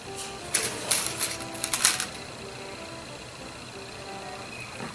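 A sewing machine runs a straight stitch on fabric while a Nordic gnome is being made, giving a rapid clattering burst of needle strokes for about a second and a half, then fading into a quiet room tone.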